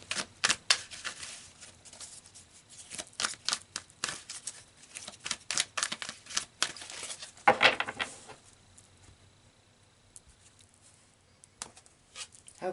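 Tarot cards handled and pulled from a deck, a string of soft close-up taps, slides and shuffling flicks in uneven clusters, quiet and with no talk over them.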